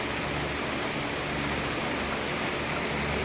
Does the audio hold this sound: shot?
no